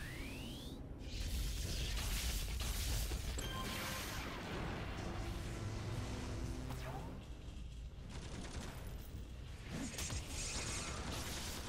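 Thunderous Blast electric attack from an Electric/Devices Blaster in City of Heroes Homecoming: a sustained crackling, rumbling roar with whooshes and crashing bursts running for several seconds under quiet background noise.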